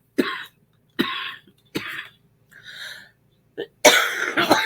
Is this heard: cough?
yes